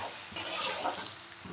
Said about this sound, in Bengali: আমি মাঝারি সাইজের একটা পেঁয়াজ কুচিয়ে দিয়ে দিলাম, দিয়ে পেঁয়াজটাকে একটু লালচে হওয়া পর্যন্ত ভেজে নেব